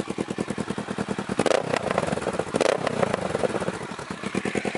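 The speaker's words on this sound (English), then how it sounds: "Let me see if I can give you a few quick revs." A Kawasaki Z650 motorcycle with a new loud exhaust idles with a rapid, lumpy rhythm, then two sharp throttle blips rev the engine loudly before it settles back, close by.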